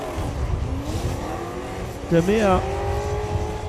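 Drift cars at the Emirates Drift Championship roar through a chicane, a steady engine drone with rising revs and tire noise, while a commentator talks over it.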